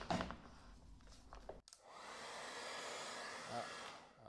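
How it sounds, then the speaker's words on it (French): A hair dryer blows steadily on wet paint on a leather pouch, a loud, constant close whoosh that starts after a brief thump and some handling noise. "Je mettrai un coup de sèche-cheveux"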